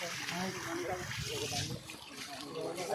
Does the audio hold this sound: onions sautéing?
no